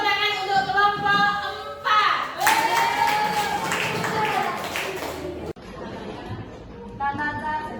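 A classroom of students applauds a group during a lesson on funeral prayer, with a burst of clapping and crowd noise rising in the middle, mixed with children's chatter and voices throughout.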